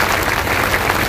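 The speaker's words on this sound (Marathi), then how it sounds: "टाळ्या वाजवून माननीय मुख्यमंत्री महोदयांचं आपण अभिनंदन करा" Audience clapping at a hospital opening ceremony for a women's and children's hospital in Malegaon, a steady dense wash of hands filling the whole short stretch with no voices over it.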